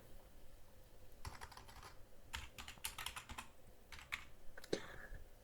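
Keys tapped on a computer keyboard while entering a nickname for a Tonkeeper crypto wallet on a PC, a quiet, irregular run of soft clicks in short bursts, heard alone.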